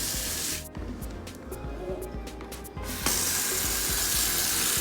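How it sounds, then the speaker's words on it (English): Hot water gushes from a sink tap, a steady broadband rush that briefly dips and then swells louder and brighter as the flow increases, heard alone without talk. "So I'm going to turn on my water and get it nice and hot."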